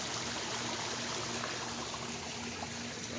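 Water from pond pipes pours steadily into a backyard waterfall pond, a continuous broadband rushing and splashing with a faint steady hum beneath it, close and unbroken.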